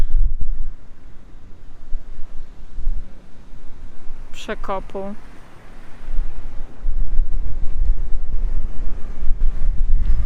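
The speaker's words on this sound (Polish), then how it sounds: "Ciekawa jestem, czy słyszycie ten wiatr." Steady wind roars and buffets the microphone throughout, with a brief bird call in the middle and a few spoken words.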